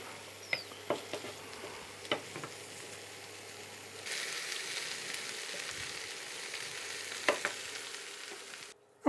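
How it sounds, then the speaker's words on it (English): Soft, steady sizzling of cauliflower frying in oil in a pan, with a few light clinks and taps of utensils, quiet and close. "going to warm these through a little bit, just to get a little bit of colour on them"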